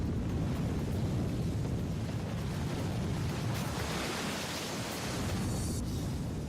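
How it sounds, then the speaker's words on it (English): Water bursting loose as the Three Gorges Dam cofferdam crumbles, a dense, steady roar of rushing torrent that holds at full strength throughout, with no voices. "As the cofferdam crumbles, it unleashes the water stored behind it."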